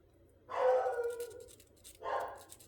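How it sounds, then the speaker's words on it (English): A pet dog indoors giving two muffled barks or woofs about a second and a half apart, moderately close but soft, over a low background hum. "Sorry about my dog."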